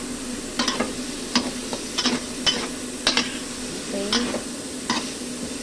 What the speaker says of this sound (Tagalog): Halo lang natin, mga kapalangga.